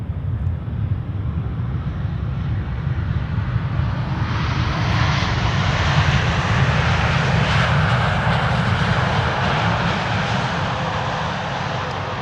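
A TUI airliner on arrival at Amsterdam Schiphol Airport after a long flight from Willemstad, Curaçao, producing a loud, sustained jet engine roar with wind buffeting, swelling slightly midway and holding steady throughout.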